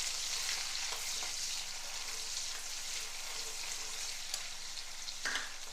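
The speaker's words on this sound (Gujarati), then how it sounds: "જીરું સંતળાઈ જાય એટલે એક ઝીણી સમારેલી ડુંગળી ઉમેરી તેને સાંતળવાની છે." Finely chopped onion sautéing in a pan after cumin seeds, giving a steady, close, continuous sizzle and crackle with occasional soft stirring clicks and no voices.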